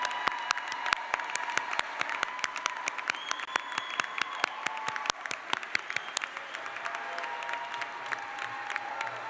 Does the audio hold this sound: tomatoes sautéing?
no